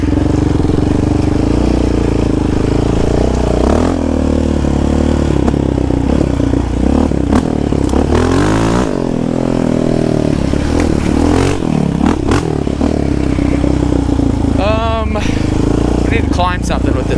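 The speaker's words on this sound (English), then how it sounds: "Trying to blip it a little bit because that's where Jay thinks we'll have some power cuts." Yamaha Raptor 700 ATV engine blipped and revved off road, loud and close, with rising and falling pitch sweeps and scraping, clattering bumps throughout while someone talks over it.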